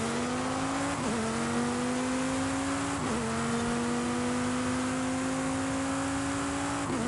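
Toyota Yaris driving in Forza Horizon 5, a steady droning engine note that shifts pitch at each gear change, loud and continuous throughout.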